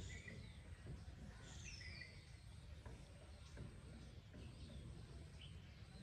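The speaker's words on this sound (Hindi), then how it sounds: "पक्षियों की आवाज़" Birds chirping faintly in the distance during a guided relaxation session, a few thin calls scattered over a steady low background hum.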